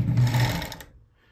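A Bonis fur sewing machine stitches beaver-fur gauntlets in a quick burst of rapid whirring, loud and near, that winds down and stops within a second.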